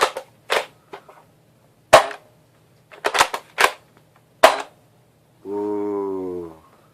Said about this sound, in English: this thing has a very satisfying pop when you pull the trigger